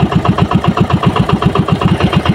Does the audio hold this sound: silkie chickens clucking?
no